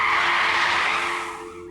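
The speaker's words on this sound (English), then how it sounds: "a car comes screeching to a halt, just barely missing and running over my hand" A car's tires screech loudly in one sustained skid as it brakes hard to a stop on a quiet residential road, the squeal fading slightly toward the end with no voices.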